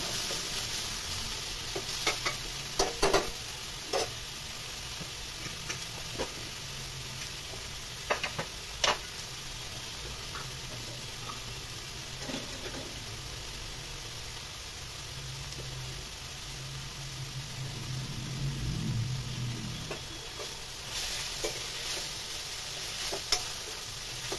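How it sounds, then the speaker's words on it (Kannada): Chopped tomatoes fry in oil in a pan for palak khichdi, a steady close sizzle and crackle with occasional clicks and scrapes of stirring, going on without a pause. "ಈಗ ಇದಕ್ಕೆ ಕಟ್ ಮಾಡಿಟ್ಕೊಂಡಿರೋಂಥ ಟೊಮೊಟೊನ ಕೂಡ ಹಾಕ್ಕೊಂಡು ಚೆನ್ನಾಗಿ ಫ್ರೈ ಮಾಡ್ಕೊತಾ ಇದ್ದೀನಿ"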